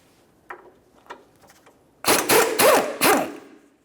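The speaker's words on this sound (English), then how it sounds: "We'll use a 17mm to remove our 3 pieces of mounting hardware, 2 nuts and 1 bolt. Start by removing the bolt." A 17mm power tool removing a mounting bolt during a CV axle replacement on a 2006-2011 Honda Civic, a few light clicks followed by four loud, close ratcheting bursts.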